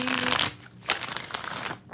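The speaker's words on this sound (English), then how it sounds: "3 more shuffles, and we don't want the lover boy taking over this read" Tarot cards being shuffled by hand in bursts of crisp riffling and flapping, a few separate shuffles with short pauses between them, close and moderately loud.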